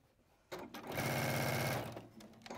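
A sewing machine stitches a short run on a hexie patch, a brief rapid mechanical chatter that ramps up, holds for about a second, then slows and stops, with quiet room sound around it.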